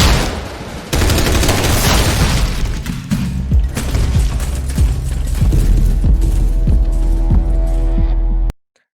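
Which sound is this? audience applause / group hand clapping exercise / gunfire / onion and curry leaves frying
gunfire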